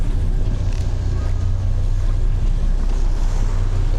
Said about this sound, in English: With the wind rushing past us, or rushing against us so much, makes our drift really fast.